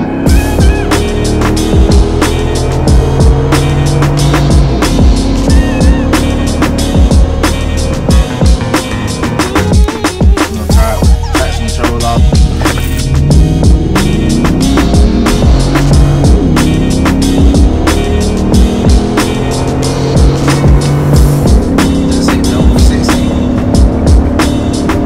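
A lifted Ford F150 pickup accelerates hard on a 0-60 run, its engine droning steadily and loudly throughout with rising and falling tones as it shifts through gears.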